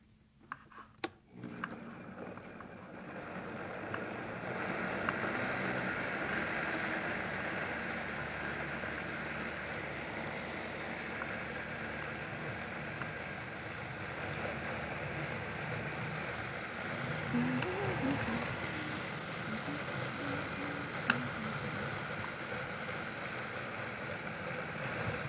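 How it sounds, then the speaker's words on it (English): A Vitamix blender runs steadily for about 25 seconds, blending salad dressing with garlic and onion powder into a smooth mix, a loud, continuous mechanical whir with no talking. "Put this on our Vitamix, and we're going to blend until it's smooth."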